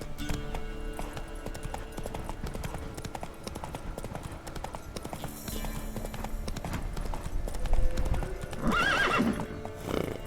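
Roach, a horse in the video game The Witcher 3, galloping with rapid rhythmic hoofbeats throughout, followed by a whinny near the end, with a voice speaking briefly.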